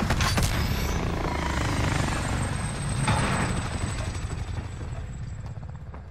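A helicopter in the video game Call of Duty: Modern Warfare thrums steadily and loudly throughout, its rotor chop swelling slightly midway before easing off toward the end.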